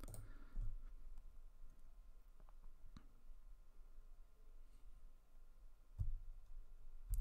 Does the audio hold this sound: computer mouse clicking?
yes